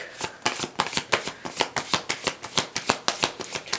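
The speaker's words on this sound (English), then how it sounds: "Gonna go ahead and shuffle real quick." A deck of cards is shuffled close up, a quick run of crisp, rapid riffling slaps in a steady rhythm with no voices.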